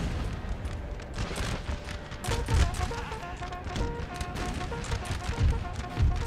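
A line of troops takes musket and artillery fire in the strategy game Napoleon Total War 3, with a steady crackle of rifle volleys and periodic low booms under a droning musical backdrop.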